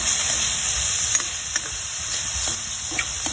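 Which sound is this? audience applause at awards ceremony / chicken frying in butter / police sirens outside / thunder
chicken frying in butter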